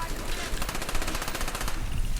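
Rapid automatic gunfire in the video game Call of Duty: Black Ops, played on Veteran difficulty, rattling as dense sustained bursts close up, with continuous battle noise underneath.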